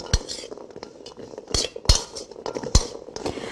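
Chickpeas being stirred in flour and oil in a pot for a vegetan chickpea soup, with a utensil scraping and clinking against the metal in irregular strokes, a few sharper knocks standing out, close and moderately loud with no talk.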